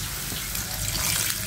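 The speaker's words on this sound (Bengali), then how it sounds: "এখন দিয়ে দেব একটু জল," Water poured into a spice paste frying in oil for a surma fish bhuna, heard as a steady close rushing splash with a bubbling sizzle under it, lasting a second and a half.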